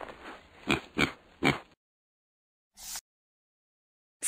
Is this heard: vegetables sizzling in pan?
no